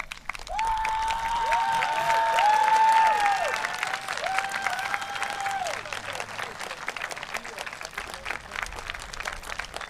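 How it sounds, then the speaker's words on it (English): Graduating students applauding at a high school commencement ceremony, broad crowd clapping that swells then eases, with a sustained tonal sound gliding above it and some crowd noise mixed in. "Students, stand up and give them a hand of applause."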